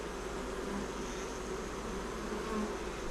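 Honey bees drone in a dense, continuous buzz at an open hive during an inspection, close and steady throughout with no speech.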